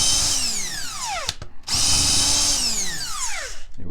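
Impact wrench removing cylinder bolts from a GasGas EC300 two-stroke dirt bike engine: two loud, close whirring bursts with falling pitch, split by a short pause.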